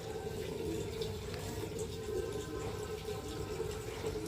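Water is poured from close by onto a potted plant in a rooftop garden, giving a continuous trickling, splashing flow at a steady, moderate level with no talking.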